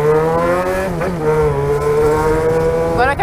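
A Yamaha XJ6 motorcycle engine drones steadily up close while riding between lanes of traffic, with two sharp throttle blips that rise and fall in pitch.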